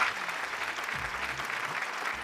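A studio audience on a televised couples' singing game show gives a burst of applause for a competing pair, steady clapping heard at a modest, somewhat distant level with a faint low hum beneath.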